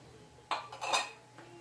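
A metal lid set onto a pan of spicy crabs in a small kitchen, two or three quick clanks and rattles close by, then a faint final knock.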